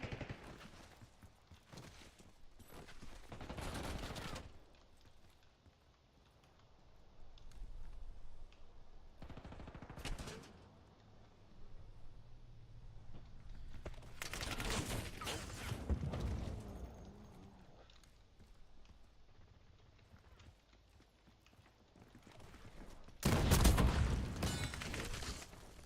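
Gunfire in a multiplayer shooter game comes in several loud bursts of rapid automatic shots separated by quieter stretches, some near and sharp, others softer in the background.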